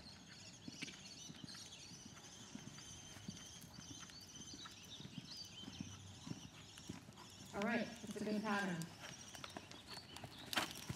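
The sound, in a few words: horse hooves walking in riding arena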